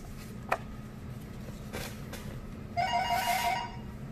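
A telephone rings with a short electronic trilling burst near the end, after a faint click, over a low steady room hum; no one speaks.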